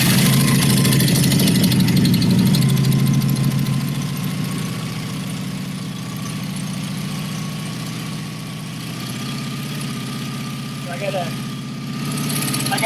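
A 1988 Honda VF750C Super Magna V4 engine with a custom Marving exhaust idles steadily just after a first start, a continuous mid-pitched rumble that dips slightly and settles, loud and close throughout.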